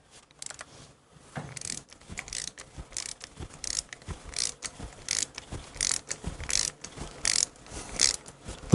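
Palm ratchet clicking steadily while loosening the intake manifold on a Harley Shovelhead, a close, crisp series of repeated pawl ticks in short rhythmic bursts with brief pauses between strokes.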